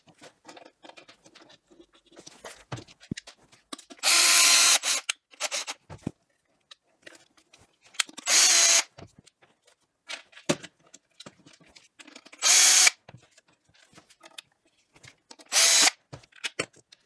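Power drill driving M4 screws into a 3D-printed filament stand: four loud bursts of motor whine lasting about a second each, spaced several seconds apart, with small clicks and handling noises between them.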